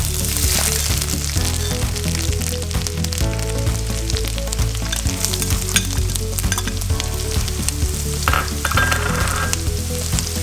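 Mustard seeds and crushed ginger fry in a hot pan for a fish pickle, giving a loud, continuous sizzle and crackle with stirring scrapes throughout.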